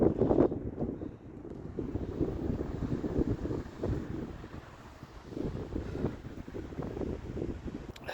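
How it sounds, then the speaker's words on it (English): Steady, blustery, cold wind buffeting the microphone high on a mountain, a continuous low roar with gusts rising and falling throughout, no voices. "Sure is windy and cold."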